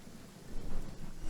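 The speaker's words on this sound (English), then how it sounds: "It's raining though." Steady rain hiss with low rumbling swells of thunder in the Genshin Impact video game, a continuous wet wash that grows slightly louder midway, no voices.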